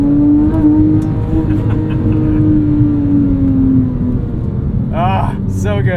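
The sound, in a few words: Porsche 997.1 911 GT3 3.6 engine driving on canyon road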